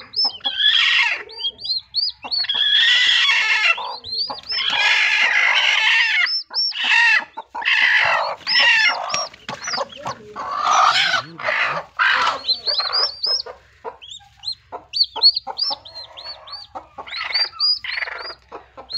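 Hens clucking close by at a turkey farm: rapid, insistent cackling bursts with short gaps between, loud and near, with no people talking.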